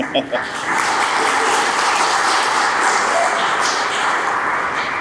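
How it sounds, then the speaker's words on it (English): Crowd applause during a mayor's State of the City 2024 address, a sustained even wash of many hands clapping at steady loudness throughout after a brief scattered start. "That's worth a clap."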